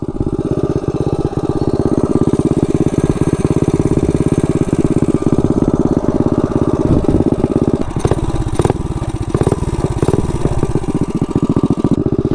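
Mini bike with a DIY pit bike exhaust, stage 2 cam with springs, VM22 carburetor and stock Tillotson flywheel, running loud and steady with a dense rapid engine pulse, a few sharp revs near the end.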